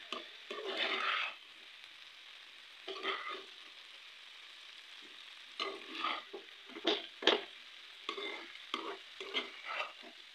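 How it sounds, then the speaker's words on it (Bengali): Potato bhaji frying in a pan, stirred in bursts with a spatula: scraping and sizzling strokes come in separate clusters with short pauses between them, close and moderately loud, with no voices. "আর একটু লাগাচাড়া দিয়ে দিই।"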